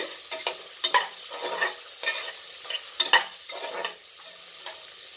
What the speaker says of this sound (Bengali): তারপরে দেব বাদাম। বাদামটাও একটু নাড়াচাড়া করব।